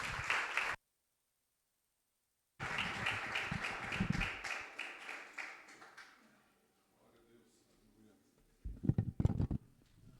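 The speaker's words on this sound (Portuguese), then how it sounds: "As palmas louvam ao Senhor." Clapping during a church service led by children and adolescents, with short bursts of congregation hand claps broken by a gap of silence, then fading, with voices heard faintly in between.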